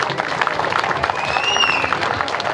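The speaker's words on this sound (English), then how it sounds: "So I think you need to give your clerk a round of applause." Audience applauding the county clerk at a McHenry County Board gathering, a dense steady wash of clapping from a crowd with a faint whistle partway through.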